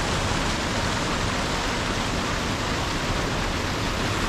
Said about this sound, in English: I could sit and listen to that for ages, that water.